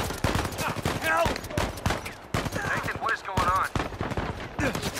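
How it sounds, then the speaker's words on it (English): Bursts of gunfire in the action video game Uncharted 4: A Thief's End, heard as loud, close, rapid shots and impacts in a chaotic firefight, mixed with shouting and other game noise. "I'm being shot at."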